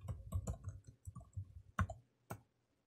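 Keys on a computer keyboard clack close by in a quick irregular run of about a dozen strokes, then a final separate tap, typing a directory path with no talking.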